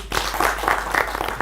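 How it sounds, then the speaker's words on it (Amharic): Audience clapping at an Ethiopian book and author tribute event, a moderate burst of applause rising after a brief pause and continuing in waves, with faint voices mixed in. "የታለ ጭብጨባ?"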